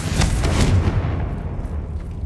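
Hogwarts Legacy's Confringo explosive spell lands as a few booming, gunshot-like blasts early on, then a rumbling tail fades into quieter ambience, with no talking.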